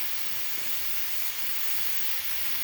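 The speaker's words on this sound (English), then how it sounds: "that's what a steady stream of steam sounds like" A pressure canner loaded with mushroom jars vents a steady stream of steam, making a continuous even hiss that stays loud and unchanging throughout.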